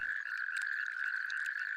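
A natterjack toad croaks at a shallow, calm breeding pond, making one steady, loud rasping trill that runs unbroken from start to finish with no voices.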